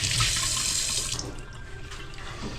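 Water gushing from a deep-well tap under strong pressure, a close, loud, steady splashing rush that softens slightly after the first second.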